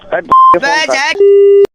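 Talk in Hindi is chopped by loud, steady censor bleeps, a short high tone and then a longer, lower sustained tone, each cutting cleanly across the speech during a prank phone call.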